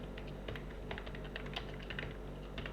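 Rapid, uneven clicking of keys on a computer keyboard, quiet and close, with steady keystrokes throughout and no talking.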